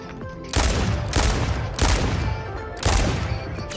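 Explosions from a cluster mortar strike in a shooter video game land in three heavy, booming bursts about a second apart, each loud blast trailing off into rumbling debris.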